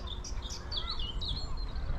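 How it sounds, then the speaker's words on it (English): Birds sing overhead beside Frensham Great Pond, with several high chirping and warbling phrases over steady low outdoor rumble and wind, moderately distant and continuous. "we've got birds singing away above us"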